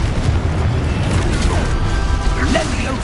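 A Confringo fire spell bursts in Hogwarts Legacy, a loud booming impact within dense, continuous combat noise, with a voice shouting over the din.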